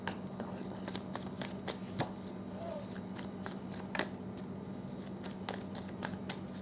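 Tarot cards being shuffled for a reading, a soft continuous riffling and flicking of cards close by with light sharper snaps, over a steady low background hum.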